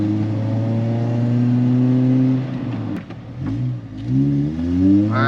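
A Toyota 2ZZ engine in a Vibe GT with a ported exhaust header revs up to about 6,000 RPM, climbing and holding a loud, close whine, dropping briefly, then rising again.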